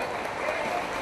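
An audience applauds to welcome a singer onto a live show, a dense, continuous wash of clapping with voices mixed in.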